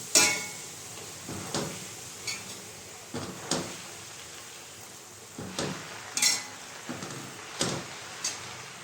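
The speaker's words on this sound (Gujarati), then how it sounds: "હવે આપણે મેથીની ભાજીને હલાવી દઈશું બધું મિક્સ કરી દઈશું" Fenugreek greens and peas are stirred in a pan, with a series of separate scraping and clinking strokes of a spoon against the metal at an uneven pace, close and fairly quiet between strokes.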